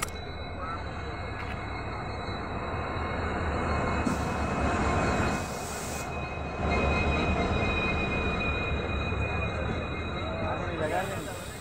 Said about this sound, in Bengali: ট্রেনটা ছেড়ে দিয়েছে